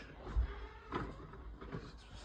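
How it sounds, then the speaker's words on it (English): A kitchen cupboard-style door in an apartment opens or closes with a soft low thump followed by faint creaks and knocks, quiet and nearby. "Kitchen door is so annoying"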